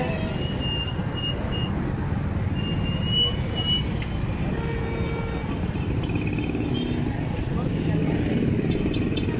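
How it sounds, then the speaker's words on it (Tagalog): Busy road traffic at a crowded market crossing in Calamba, a steady dense roar of cars, motorcycles and trucks passing close by, with voices mixed into the constant din. "medyo nagka-traffic"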